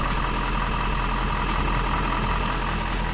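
A Ford 6.7 Powerstroke diesel idles steadily right after a fuel filter service, a constant close, loud low rumble with a faint airy hiss as trapped air works out of the fuel system, with no talk.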